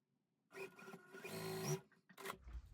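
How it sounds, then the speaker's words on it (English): Sewing machine stitching two quilt block pieces together for a goose chase block, running in a close, quiet burst of about a second and a half, then a short stop and a brief second run. "So I'm going to go ahead and sew these two first."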